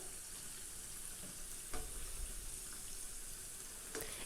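Masala vada frying in hot oil just after being flipped to its other side, a continuous close sizzle with a few soft knocks and clatters over it, no voices.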